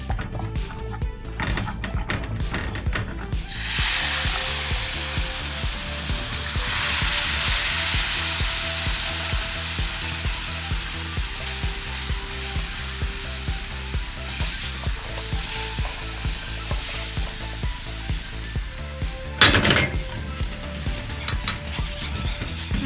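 Flour (maida) roasting in a pan for white sauce while being stirred, a steady loud sizzle and fry with scraping stir sounds throughout and a sharper clatter near the end.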